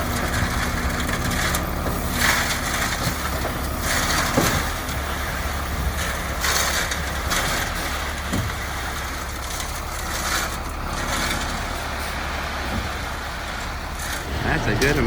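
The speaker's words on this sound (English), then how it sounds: "Here comes our load of gravel," A truck delivering seven yards of crushed gravel for a shed pad rumbles with a steady engine drone throughout, fairly close, with a voice speaking over it.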